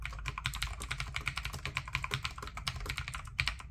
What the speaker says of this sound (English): you can just hear the kind of difference in typing